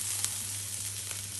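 Ingredients fry in hot oil for chicken pastilla, giving a continuous close, even sizzle with no voices.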